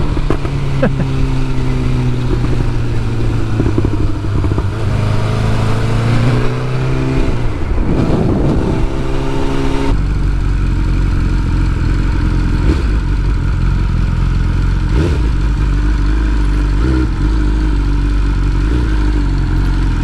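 A 2022 BMW S1000R Sport motorcycle is ridden on the road, its engine climbing and dropping through the gears with rising pitch sweeps, then holding a steady loud drone with wind rush, close and constant throughout.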